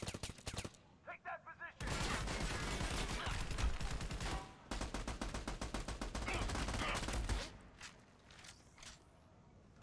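Rapid bursts of gunfire from the co-op shooter game Army of Two, dense volleys and machine-gun rattle filling most of the stretch with brief lulls, while players talk over the shooting.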